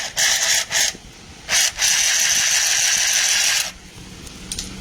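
A sewing machine's mechanism turned by hand, giving loud clattering, ratcheting bursts: two short spins, then a longer continuous whir, then faint ticks as it stops.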